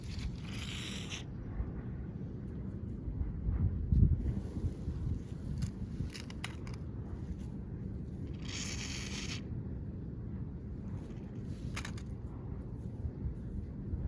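Air hisses from a drip irrigation pipe on a farm in short bursts that rise above steady outdoor wind rumble, with quieter rubbing noises in between.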